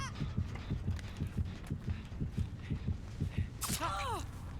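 Killer terror-radius heartbeat from Dead by Daylight throbs in a steady, heavy low pulse, with a brief whooshing game sound near the end.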